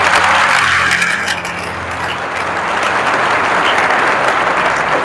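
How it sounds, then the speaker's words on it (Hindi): Loud, dense applause from an audience at a motivational talk, a steady wash of many hands clapping that swells, eases slightly and builds again without speech. "एक बार बड़ा जोरदार ताली"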